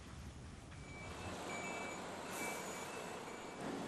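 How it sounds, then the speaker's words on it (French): Trucks and construction machines at night roadworks on the A480 motorway in Isère, with a steady heavy engine rumble and reversing alarms beeping in repeated high tones over the din. "Un ballet de camions et d'engins de chantier pour une chorégraphie bien orchestrée."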